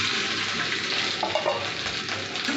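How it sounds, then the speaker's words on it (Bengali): Peeled boiled potatoes fry in oil with fenugreek seeds in a pan, a dense steady sizzle close by with a few soft stirring and clinking touches, no speech. "এবার আলুটা তেলে ভালো করে ভেজে নিতে হবে"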